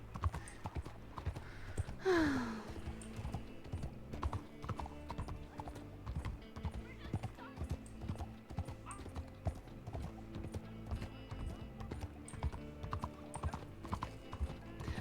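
Steady clip-clop of horse hooves in a video game trots on continuously, with a brief horse whinny early on, set over a low backing track.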